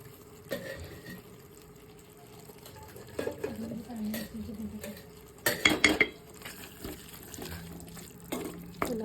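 Sorakaya milk curry is stirred in a pot, with intermittent scraping and clinking of a utensil against the metal and a louder clatter midway, against a soft background hiss.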